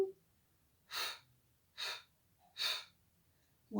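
Three distinct breathy inhales during a Pilates class, each about half a second long and evenly spaced, close and fairly quiet, with faint voice fragments at the edges.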